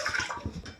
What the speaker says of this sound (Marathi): इथं गॅसवर मी कुकर ठेवला, यामध्ये आपल्याला पाणी घालून घ्यायचं